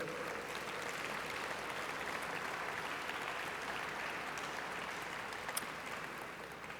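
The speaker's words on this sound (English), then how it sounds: "give Rahul and his team a big round of applause" Conference audience giving a round of applause at a Canadian space sector event, a sustained even roar of many clapping hands, heard from a distance and fairly soft.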